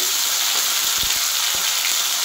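Ginger, onion, chili and garlic pastes fry in a pan for an Ilish fish head and kochu shak dish, giving a steady close hiss with a few soft low thuds from stirring.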